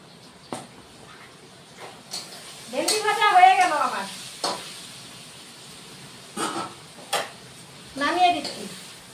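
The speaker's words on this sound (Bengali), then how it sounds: "ভেন্ডিটা ভেজে নিয়ে তারপরে আলুটা ভাজবো" Okra fried with a little turmeric in oil and stirred in a pan, with intermittent clinks and scrapes of the spatula over a faint sizzle while a person talks.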